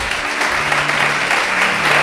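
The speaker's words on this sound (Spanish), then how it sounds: "Denle un aplauso al Señor." Loud, close applause from a church congregation during a sermon on salvation, dense and continuous clapping with a faint low hum beneath, no speech.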